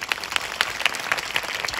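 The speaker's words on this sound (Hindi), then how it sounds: "एक बार परमेश्वर के लिए ताली बजाएंगे।" A congregation at a Hindi-language Christian church service claps together in quick, regular rhythm, a brief burst of steady applause heard fairly close.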